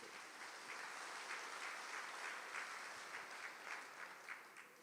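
A church congregation claps hands during Catholic prayer, steady rhythmic clapping from many people at a distance, faint but continuous throughout with even pulses.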